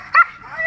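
A single short bark from a purebred German Shepherd rescue dog, close and loud, followed by a faint whine.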